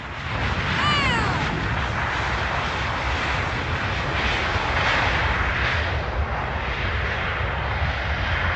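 Loud jet roar from an Air Canada airliner at John Glenn International Airport, a steady broadband rumble sustained throughout with a brief whine early on, close and powerful with no talk.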